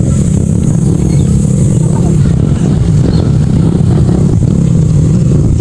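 A motorcycle engine runs near a riverside road by a bridge in General Nakar, Quezon, a loud, steady low rumble that holds throughout the recording at close range.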